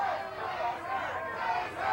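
A protest crowd shouting down a pro-gun rights person, a dense wall of many raised voices yelling together, steady and somewhat distant.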